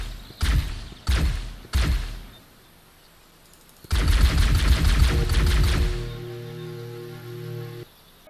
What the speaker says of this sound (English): there's currently an issue with the plasma pistol audio where it does the fully charged audio when you're rapid fire tapping the plasma pistol